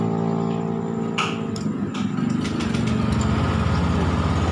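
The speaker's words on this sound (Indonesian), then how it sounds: "Kita hidupkan motor juga bisa di sini ya." A motorcycle engine idling steadily at around 1,900 rpm, with a loud, continuous low hum that runs unbroken throughout, plus a few faint clicks near the start.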